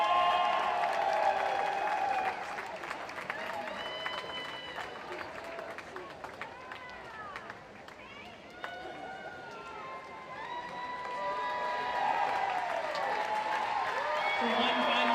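An audience at a college swimming championship applauds senior swimmers, a broad crowd wash mixed with chatter and whistle-like tones in a reverberant natatorium, steady throughout with a slight swell near the end.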